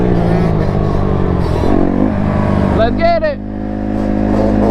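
A two-stroke quad engine revs loud and close throughout, its pitch sweeping up then sagging as it bogs out, with people talking over it.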